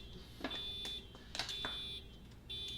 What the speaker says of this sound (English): You hear that shit beeping? Listen to that. It's still beeping.